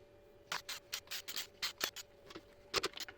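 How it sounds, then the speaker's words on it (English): A small screwdriver scratches and clicks as screws come out of the back of a Harman/Kardon Onyx speaker, with quiet, close, irregular short bursts of scraping over a faint hum and no talk. "Now we can remove all the screws on the back of the device."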